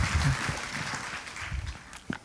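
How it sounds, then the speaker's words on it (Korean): A church congregation at a Korean Sunday worship service gives a soft, steady round of applause to welcome a guest. It sounds fairly distant and fades slightly near the end. "다시 한번 여러분 박수로 환영해 주시고요."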